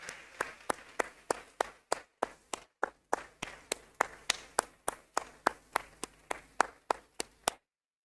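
Steady, evenly spaced hand claps from a forum audience giving speakers a round of applause, about twenty sharp claps in a regular rhythm, fairly quiet and close, then stopping.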